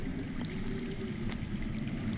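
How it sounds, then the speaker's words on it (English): Underground running water in a video game, a soft continuous trickling stream heard faintly and steadily with no talking. "I hear water. From underground."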